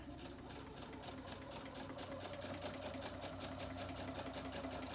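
A sewing machine quilting in the ditch on a mini quilt, running as a steady continuous whir with a fast mechanical rhythm and a low motor hum throughout, close and alone.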